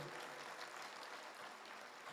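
Audience applause for gurus at a direct-selling speech event, a brief, steady wash of clapping from a crowd, fairly faint and continuous with no pauses.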